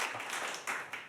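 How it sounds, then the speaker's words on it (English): A studio audience on a late-night show gives a short, soft round of clapping, with a couple of sharper claps standing out near the end. "You can give them a round of applause."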